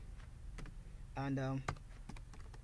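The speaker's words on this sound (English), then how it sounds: "If you type the admin password here," Close, quiet clicking of keys as an admin password is typed on a computer keyboard, in short irregular bursts, with someone speaking briefly in the middle.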